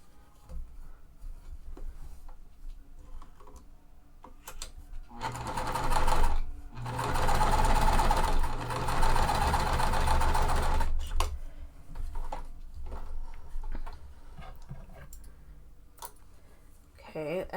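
A sewing machine stitches quilt fabric pieces for a small lemonade quilt block in a rapid mechanical whir lasting several seconds, with quieter clicks and handling and some speech before and after.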